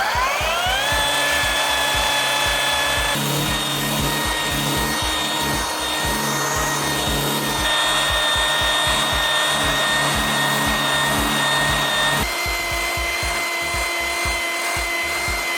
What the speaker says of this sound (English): after doing some heavy sanding on this glass